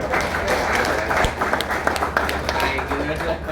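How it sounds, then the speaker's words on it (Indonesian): Hand clapping at a village briefing with a military district commander, a group clapping in a brisk uneven patter, heard with voices talking throughout. "Tuh, tepuk tangan."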